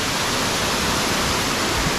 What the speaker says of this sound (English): It's pouring down with rain from the waterfall.